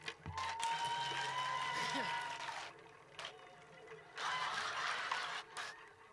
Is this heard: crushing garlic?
no